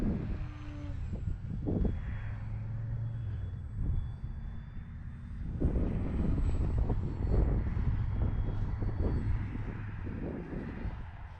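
A Hobbyzone Carbon Cub S2 RC plane flies overhead, its small motor and propeller making a steady droning whir that swells and fades as it passes nearer and farther, with no talking.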